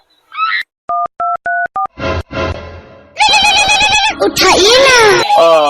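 A series of electronic keypad tones dialing a phone number, followed by a ringing tone and then loud, excited voices.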